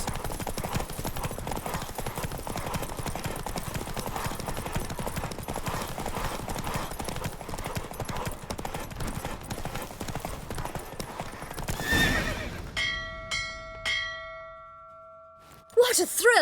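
Horse hooves pound in a rapid, steady galloping rhythm during a race in The Witcher 3, loud and continuous for most of the stretch, then give way to a few ringing bell-like chimes and quiet.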